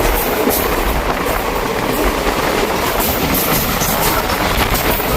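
A train rumbles steadily along the rails, loud and close, with continuous rattling wheel noise and faint clickety-clack throughout.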